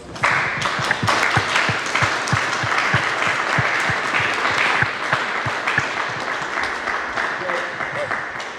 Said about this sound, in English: Do you mind giving them one more round of applause?